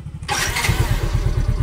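A motorcycle engine catches at once after a short starter crank, following a starter motor carbon brush replacement, and settles into a steady, close, throbbing idle.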